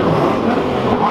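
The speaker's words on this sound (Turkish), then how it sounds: "Herkesten bir ara gaz alalım." Car engine revving hard with throttle blips during a high-speed road run from Istanbul to Izmir, loud, steady broadband roar close up, no talk over it.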